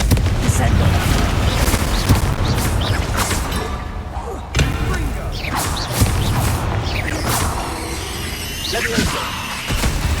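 Spellcasting combat in Hogwarts Legacy with Confringo and Descendo: loud booming blasts, whooshes and crashing impacts over a constant rumble, with a character's voice shouting spell names.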